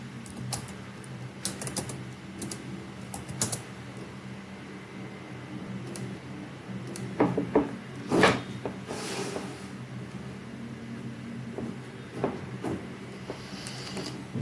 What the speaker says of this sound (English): Let's start a new terminal and let's type node app.js